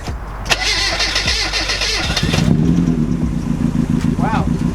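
A racecar engine running on Everclear fuel cranks and catches, then settles into a loud, steady idle close by, with voices talking over it.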